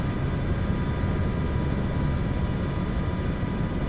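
An MH-60 helicopter in a flight simulator game drones with a steady, dense engine and rotor rumble over a Bering Sea rescue mission, unbroken and without talk.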